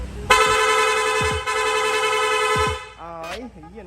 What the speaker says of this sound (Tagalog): Long press lang po natin yung horn switch, yung busina natin, kusa na pong magsusunod-sunod.